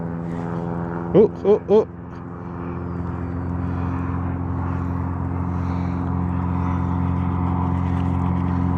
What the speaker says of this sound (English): Oh, the airplane went around.